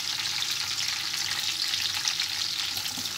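Garlic and ginger sizzling in hot oil in a pan for chicken curry, a steady, close hiss of frying running evenly throughout with no voices.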